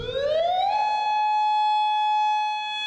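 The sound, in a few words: Modulator siren sound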